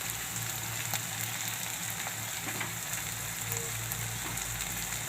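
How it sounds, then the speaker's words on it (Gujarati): Chutney hits a hot pan while cooking methi karela shaak, giving an even, continuous sizzle and frying crackle at close range with a low background hum, with no talking. "તો હવે આપણે આ ચટણી નાખી દઈશું"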